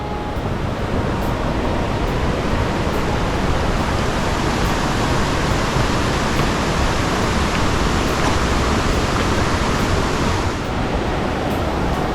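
Rushing water of Tad Yuang waterfall in the hills of southern Laos, a steady, loud broadband roar close by that holds constant throughout with no voices.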